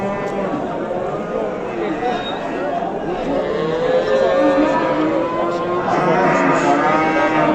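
Cattle moo repeatedly, long drawn-out calls close by, at a livestock market, with a crowd murmuring and chattering in the background.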